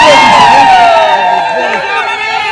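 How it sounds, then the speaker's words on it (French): Wedding guests cheer loudly at a ceremony, a brief burst of high, overlapping shouts and ululating voices, close and dense, fading slightly over about two seconds. "Applaudissez."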